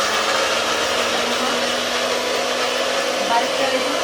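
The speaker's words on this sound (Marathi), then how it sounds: "आता हेला वाटून घ्यायचं मिक्सरला" A kitchen mixer grinder whirs steadily and loudly as it grinds garlic and green chillies, one unbroken high motor drone with no pauses or talk.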